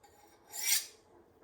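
A knife edge is stroked once along a ceramic sharpening rod, giving a faint, brief, close raspy scrape that swells and fades within about a second.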